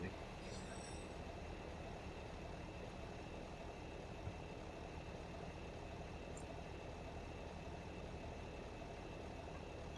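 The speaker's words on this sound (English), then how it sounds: "Oh, I've left the Ford on. It's probably quite a waste of fuel" A Ford tractor in Farming Simulator idles with a steady, low mechanical drone that stays even and faint for the whole ten seconds, broken only by a couple of tiny clicks and no talking.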